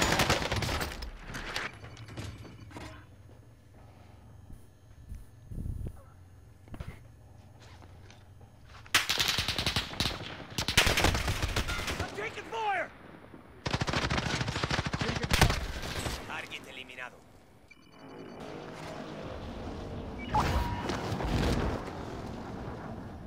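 Bursts of automatic gunfire and heavy fusillades in Call of Duty Rebirth Resurgence, loud volleys that come and go across the stretch with quieter gaps, some distant shots and footsteps between.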